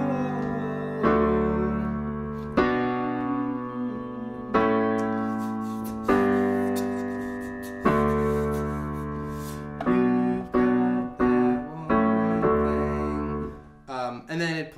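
Piano plays the bridge of a song, a sequence of sustained chords changing every second or so, struck clearly and close with rich ringing overtones, alone without any voice.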